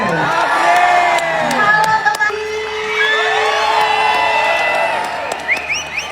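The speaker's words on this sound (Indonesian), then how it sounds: "Tepuk tangan buat April." A lively concert crowd cheering and shouting, with whoops and scattered clapping, steady and loud throughout.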